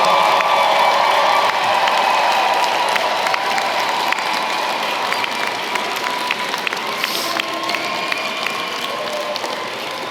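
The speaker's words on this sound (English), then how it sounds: "please turn and give your family and friends that round of applause" Graduates at a winter commencement ceremony clap for their family and friends, a broad, steady round of crowd applause with crisp individual claps and some cheering, fading slightly toward the end.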